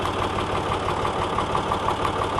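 A small farm tractor engine idles steadily while turning under winter annual cover crops, a close, continuous mechanical drone with an even rumble and no breaks.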